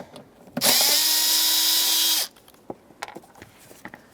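A power drill backs out a Phillips screw from a kick panel bracket on a 1995–2004 Toyota Tacoma: a close, loud, steady high whir lasting about a second and a half, followed by light clicks and handling noises.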